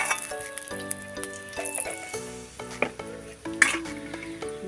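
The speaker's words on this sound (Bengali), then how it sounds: "প্রথমে আমি কড়াই ঘি দিয়ে দেবো।" Ghee sizzles in a kadai while a utensil stirs and clinks against the metal, a light frying hiss over steady background music.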